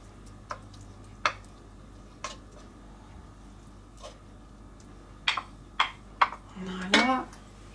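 Dishes and cookware being shifted around a home kitchen counter while cooking a turkey risotto: a handful of separate clinks and clatters, sparse at first and then bunching into a quick cluster near the end, moderately close over low kitchen background.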